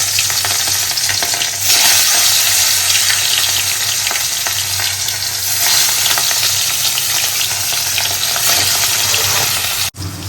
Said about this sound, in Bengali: এখন পেঁয়াজ ভাজছি